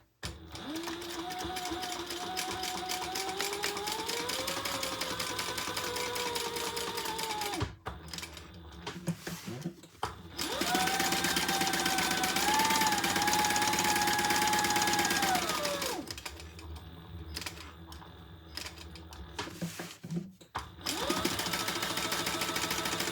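A sewing machine stitches around the edge of a fabric bag in long steady runs, pausing briefly and then running again with a strong, close whirring drone.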